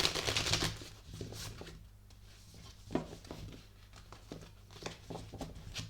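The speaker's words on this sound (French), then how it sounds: "on va prendre une dernière carte pour terminer cette guidance de la lune" Tarot cards are handled and shuffled for a reading, giving soft papery riffles, flicks and rustles up close, with a few sharper taps as cards are laid down and no speech.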